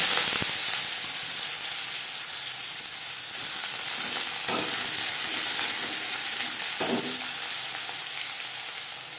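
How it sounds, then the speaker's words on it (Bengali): Whole cumin and potatoes frying in two spoons of refined oil in a wok, a steady close sizzle and hiss throughout with a few faint stirring scrapes, no voices. "রান্না করবার জন্য কড়াইতে দিয়ে দিয়েছি দু চামচ রিফাইন্ড অয়েল ফোড়নে দিয়ে দিলাম খুবই সামান্য পরিমাণে গোটা জিরে জিরে ভেজে নেওয়ার পর দিয়ে দেবো আলু"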